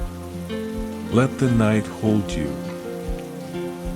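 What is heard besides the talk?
rain falling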